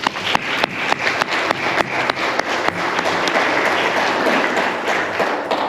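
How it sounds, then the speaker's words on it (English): An audience at an interdisciplinary academic colloquium applauds, starting with distinct rhythmic claps that quickly merge into a dense, steady wash of clapping from many hands nearby. "please give her a big round of applause"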